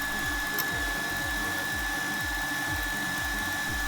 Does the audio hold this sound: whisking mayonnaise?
yes